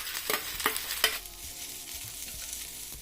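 Pointed gourd (parval) frying with big chilies in a dosa pan, with a few sharp scraping stirs over a steady soft sizzle that continues quietly afterward.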